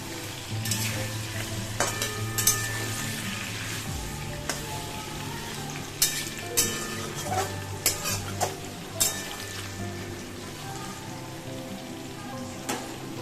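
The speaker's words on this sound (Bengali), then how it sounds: "এটা বেসিক্যালি হচ্ছে কুমড়ো ভাজা।" Pumpkin slices frying in a pan, a steady sizzle throughout with repeated sharp clinks and scrapes of a utensil stirring and turning the pieces.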